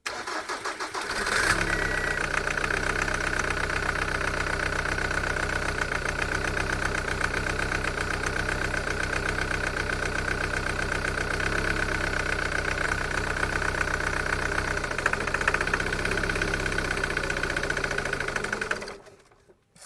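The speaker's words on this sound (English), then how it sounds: "it should sound a little bit lumpy" A Jaguar X-Type diesel engine idles roughly on only two cylinders, with a steady, loud, uneven drone heard up close and then cutting out abruptly as it stalls near the end.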